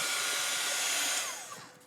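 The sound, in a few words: hair dryer drying a paper project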